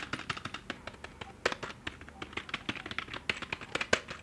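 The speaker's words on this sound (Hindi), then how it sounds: "फटाफट से इसके की प्रेस की आवाज सुनाता हूं आप लोगों को" Key presses on an Amkette Xcite Pro USB gaming keyboard, heard as a quick, close series of crisp clicky taps in an uneven typing rhythm, alone without talk.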